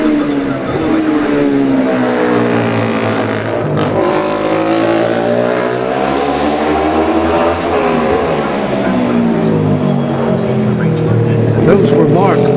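Classic racing motorcycles at the Classic TT Junior race roar past one after another, loud, close and continuous engine noise with rising and falling pitch throughout, no voices.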